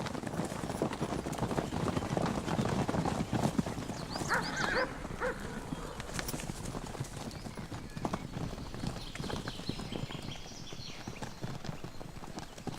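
Konik pony hooves clop over ground amid outdoor bustle in Poland, with faint whinnies and a distant dog bark; no one speaks.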